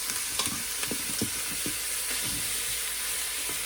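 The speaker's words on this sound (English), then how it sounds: "So I'm gonna dump that in, and I'm just gonna get it cooked in there, get it a little browned." Ground prime rib browning in a pot for chili, a loud, steady close sizzle with bursts of crackle as the meat is stirred, no voices.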